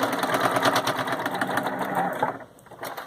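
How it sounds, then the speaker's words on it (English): A sewing machine hums close by, stitching elastic onto an in-the-hoop embroidered face mask in a steady run of needle strokes that eases off near the end. "I'm going to sew back up it a third time because I want that elastic to be secure in there"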